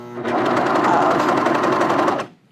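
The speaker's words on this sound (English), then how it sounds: "I will be serging off that 1/4 inch" A serger trims off a quarter inch of fabric edge over zigzag stitching, a loud close rapid whirring run of about two seconds that stops abruptly.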